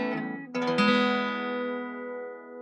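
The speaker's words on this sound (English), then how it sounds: "It's a steel string guitar." Six-string steel-string acoustic guitar with a light brown finish, a couple of strummed chords ringing out close and clear, then sustaining and slowly decaying alone.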